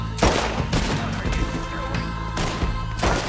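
Gunshots fired with Dead Eye in the video game Red Dead Redemption 2, several sharp cracks in a quick uneven sequence, loud and close over game ambience.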